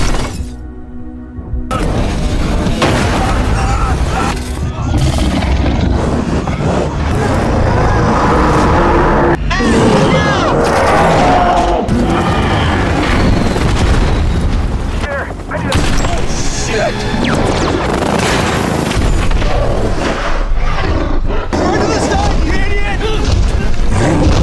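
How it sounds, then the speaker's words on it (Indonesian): Seismic bombs exploding in the film Kong: Skull Island produce loud, continuous blasts, booms and shattering debris in a dense, chaotic roar lasting the whole stretch, with a voice talking over it throughout. "menjatuhkan bom seismi, hingga terjadi ledakan di mana-mana"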